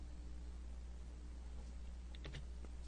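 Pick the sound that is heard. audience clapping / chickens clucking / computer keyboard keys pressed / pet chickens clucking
computer keyboard keys pressed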